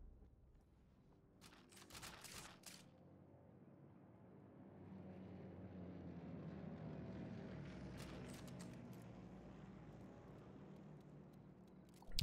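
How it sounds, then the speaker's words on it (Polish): Airplane flying overhead in Sniper Elite 4: a faint, distant propeller drone slowly swells and fades across the open map, with a few sharp clicks at the start and end. "Aha, mamy samolot, który tutaj lata"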